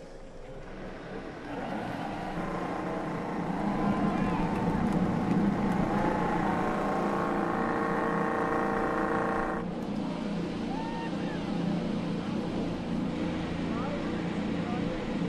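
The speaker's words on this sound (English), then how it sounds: "Gentlemen, start your engines." Race car engines fire up at the Detroit race, a loud, dense roar building within a couple of seconds and holding steady, with a tone change partway through.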